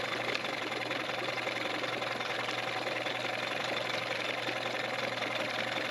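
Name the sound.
Johnson 15 outboard engine idling in gear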